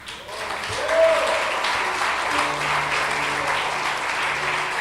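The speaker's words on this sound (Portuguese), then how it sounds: "Aplauda forte" Church congregation claps loudly and steadily during a Portuguese-language worship service, a full room of applause with a short vocal cheer near the start and faint tonal sounds beneath.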